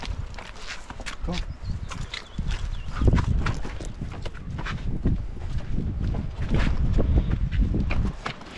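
A horse walks near Tanque Verde Falls, its hooves clip-clopping in an irregular rhythm over rough ground, close and fairly loud, mixed with rustling and wind noise.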